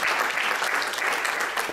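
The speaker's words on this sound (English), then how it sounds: "put your hands together and give a big round of applause for Nishant" Audience applause at a talk or event, a brief burst of many hands clapping at a steady even level, with no voices over it.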